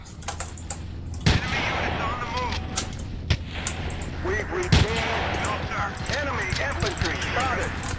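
Cannon and gun shots crack sharply now and then in an online Battlefield 2 match, a few loud bangs over a busy background of keyboard clatter and talk.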